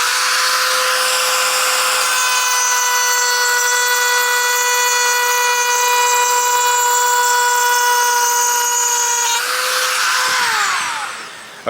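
Power carving tool steadily cutting grooves into a wooden dresser, a loud continuous high whine that holds for about nine seconds, then drops in pitch and winds down as it stops.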